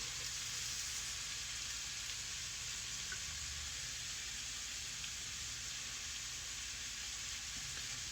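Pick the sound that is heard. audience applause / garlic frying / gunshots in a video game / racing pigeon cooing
garlic frying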